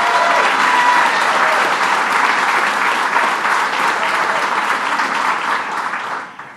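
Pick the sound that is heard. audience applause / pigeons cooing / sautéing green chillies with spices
audience applause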